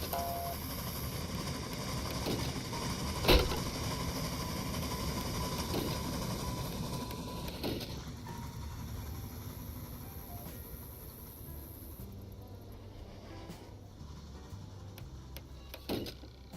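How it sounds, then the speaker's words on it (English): A train passing through in the Railway Empire Great Britain & Ireland game, a faint continuous rumbling hiss with a sharp click early on that gradually thins out. "Oh, because that train's coming through right"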